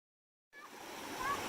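Steady broadband rush of flowing river water at Salmon River, starting abruptly after a silent lead-in and continuing evenly and fairly close, with no talk.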